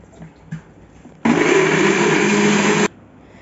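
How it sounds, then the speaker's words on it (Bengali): A blender whirring loudly as it purees small mango pieces with a cup of water, a steady motor roar starting abruptly and running for under two seconds before cutting off. "এখন আমরা ভালো করে ব্লেন্ড করে নিব।"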